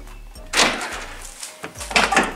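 On a Passat B5 rear left door with a newly replaced lock, the latch clicks shut twice, giving two distinct close-up clunks with a brief pause between them.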